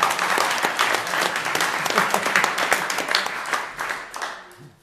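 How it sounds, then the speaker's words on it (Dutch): Audience at an evening lecture event applauding, a burst of many hands clapping loudly and steadily for several seconds before tapering off at the end. "Een applaus voor Peter,"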